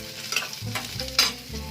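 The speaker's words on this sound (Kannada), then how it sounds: "ಕರಿಬೇವು ಇವೆಲ್ಲ ಹಾಕ್ಕೊಂಡು ಸ್ವಲ್ಪ ಫ್ರೈ ಮಾಡಬೇಕು, ಬಿಸಿ ಮಾಡಬೇಕು" Onion and curry leaves frying in a hot pan for a red chutney, a brief soft sizzle broken by a few scraping stirs of a spoon against the metal, close up and with no voices.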